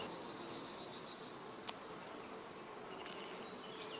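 Honeybees buzz at an opened hive, a steady, soft drone of many insects close by, with a faint tap or click now and then and no talking.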